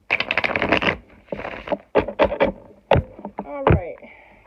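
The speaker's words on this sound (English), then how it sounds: "I'm going to give them one more shuffle." Tarot cards are shuffled by hand, giving quick riffling and flicking bursts at close range, with soft pauses between the shuffles.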